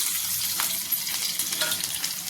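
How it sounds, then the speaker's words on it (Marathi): Garlic and green chillies fry in two spoons of oil on a hot tava, a continuous bright sizzling, crackling hiss with small pops and occasional stirring scrapes. "तवा तापलाय आपण त्यामध्ये दोन चमचे तेल टाकले त्यामध्ये आपण हा मिरची आणि"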